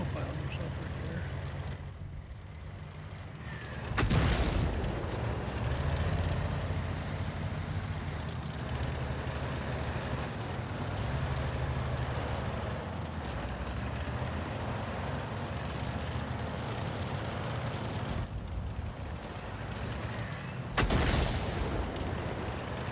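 Artillery fire in a video game: muffled booms in the distance, including two sharper blasts several seconds apart, over a steady rumble of battle noise, with a voice talking throughout.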